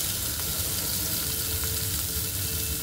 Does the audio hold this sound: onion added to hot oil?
yes